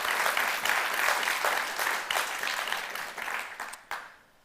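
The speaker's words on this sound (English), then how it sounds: "Round of applause. If you dare." A film screening audience gives a full round of steady applause during a Pride Month introduction, holding evenly before tapering off and stopping abruptly near the end.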